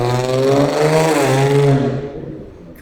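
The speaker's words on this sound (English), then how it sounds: "I put a coffee can exhaust on my Infinity." An Infiniti fitted with a loud coffee can exhaust revs up, a raspy, droning engine note that climbs and holds, then fades off over a few seconds, fairly close and loud.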